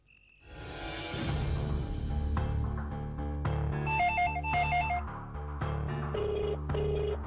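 A telephone rings loudly in a repeating electronic pattern over a sustained musical backdrop, close and clear with no talking.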